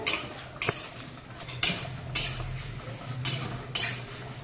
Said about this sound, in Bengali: এই আমার মশলাগুলো সব কড়াই দিয়ে দিয়েছি, আস্তে আস্তে ভাজবো